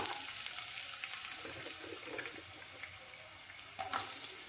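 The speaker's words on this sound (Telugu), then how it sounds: "ఇప్పుడు ఆయిల్ హీట్ అయింది కదండి, ఆనియన్స్ వేసుకుందాం." Onions fry in heated oil for a flat bean and tomato curry, giving a steady, close hiss of sizzling with faint crackles and no talking.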